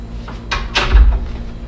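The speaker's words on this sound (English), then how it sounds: "I am going to close the door to ensure my patient's privacy" A room door at a nursing station is pushed shut, giving a couple of soft knocks and a muffled low thump as it meets the frame, close by and moderately loud with no talking.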